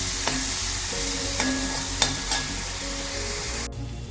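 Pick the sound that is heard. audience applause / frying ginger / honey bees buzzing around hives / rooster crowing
frying ginger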